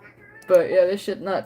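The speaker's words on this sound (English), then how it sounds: "My cat is disturbed." Juno the cat meows in a drawn-out, wavering call indoors during a live stream, followed by a shorter second meow, close and fairly loud, with a person talking briefly at the start.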